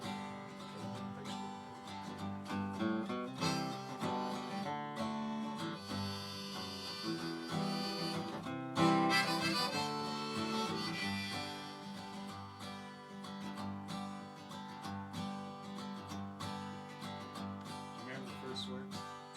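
A 1946 Gibson J45 acoustic guitar is strummed in a radio studio, a steady rhythmic chordal pattern that is fairly quiet and close, without voices over it.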